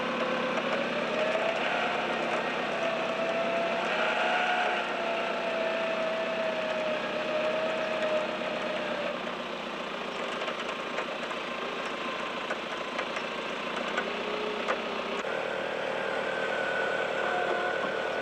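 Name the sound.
4WD vehicle engine driving with winch out of bog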